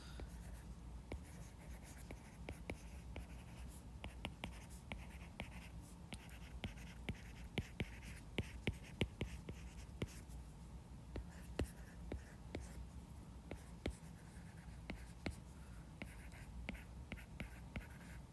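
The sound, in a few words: pen writing on paper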